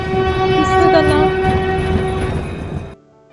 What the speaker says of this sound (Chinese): 对了，这叫火车。